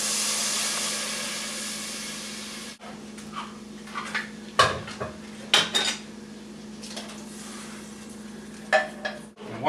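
Clams go into a pot of chowder with cooked onions and vegetables, making clattering and scraping clinks of metal and pot, with a brief sizzle at the start, close by and intermittent.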